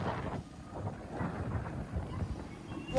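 Steady rain with rumbling thunder at sea aboard a fishing boat, low booming swells rolling under the downpour, fairly close and continuous throughout.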